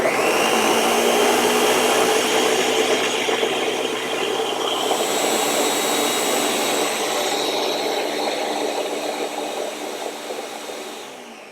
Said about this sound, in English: we're gonna blend this on high to puree it.